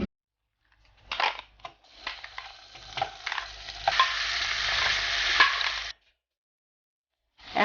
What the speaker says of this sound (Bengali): 1 টেবিল চামচ মতো তেল দিচ্ছি একটু এটা কষানোর জন্য।